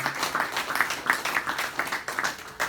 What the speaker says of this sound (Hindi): जोरदार ताली हो जाए आप सब लोग।